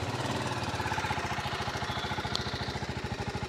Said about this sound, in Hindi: तो आइडलिंग कंडीशन में इस तरीके का आपको एग्जॉस्ट नोट मिलता है।